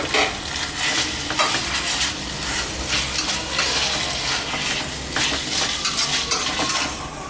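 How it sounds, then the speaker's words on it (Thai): Fingerroot, chili, kaffir lime and green peppercorn stir-fried in a pan for a Thai spicy catfish dish, giving a steady loud sizzle with continuous scraping and clinking of a utensil against the pan, no voices. "กระชายนะครับเอาพริก ไปมะกรูดนะฮะ พริกไทยอ่อน ลงไปผัดนะครับ"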